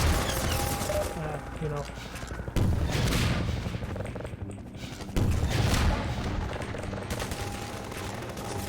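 Rapid gunfire fills the scene in the DeceptionVille video game map d2_coast_02, sustained bursts with heavy booming hits near 2.6 and 5.2 seconds, loud and continuous, with a brief spoken phrase over it.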